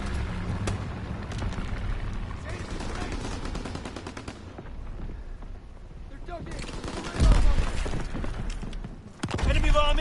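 Artillery strike from Call of Duty WWII gameplay: repeated booming explosions mixed with rapid gunfire bursts, with a lull midway and heavy blasts near the end, while a game announcer voice sounds now and then.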